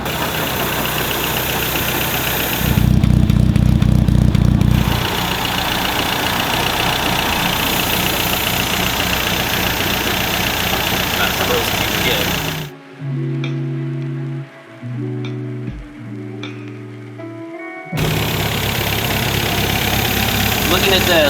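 An MG-TD engine idles steadily up close while its carburetors are tuned, a loud, even rumble with a brief rise in revs, then a drop-out filled by separate tonal sounds before the idle returns.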